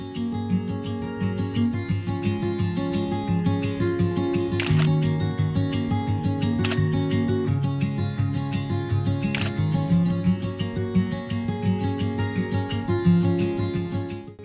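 A Samsung S6 Edge Plus phone fitted with a fixed 50mm lens fires its shutter three separate times, sharp clicks spaced a couple of seconds apart over steady background music.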